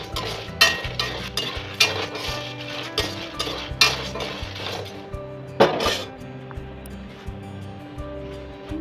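Dry red chillies roasting in a pan for black urad dal idli podi, with repeated metallic scrapes and clinks of a spoon stirring against the pan in a steady rhythm, up close and without talk.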